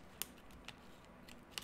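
Scissors snip open a mail package, giving a few quiet, crisp metallic clicks spaced apart over a soft room background, with no talking.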